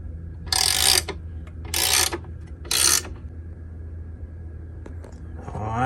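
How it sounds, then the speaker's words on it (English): A drill press platform mechanism being tightened to level it, giving three loud, close ratcheting bursts of about half a second each, then quieter mechanical clicks over a steady low hum. "I'm gonna start tightening and see if this can make it more level, the platform more level"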